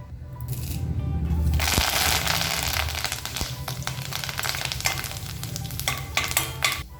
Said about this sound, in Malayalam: ഇതിലേക്ക് കുറച്ച് കറിവേപ്പില ഇട്ട് കൊടുക്കാം